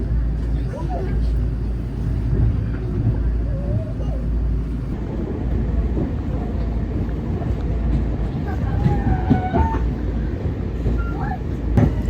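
Riding aboard Long Island Rail Road train 7555, a steady low rumble of wheels and car body fills the space, with faint squeals and clanks rising through the hum and occasional voices.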